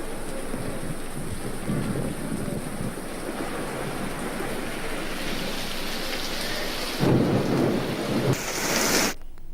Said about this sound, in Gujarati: ધોધમાર વરસાદ શરૂ થતા લાઇટો ગુલ